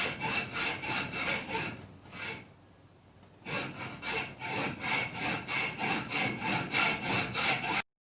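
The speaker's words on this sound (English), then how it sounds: "And I'm just going to use the hacksaw." Hacksaw cutting a part clamped in a vise for a Wheel Horse 857 garden tractor fender pan: steady back-and-forth rasping strokes, close and even, with a brief pause before the rhythmic sawing resumes.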